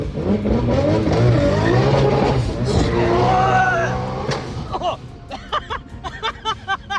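A Nissan car accelerates hard and shifts gears, the engine note rising and dropping, then sharp pulsing revs near the end, with voices talking over much of it.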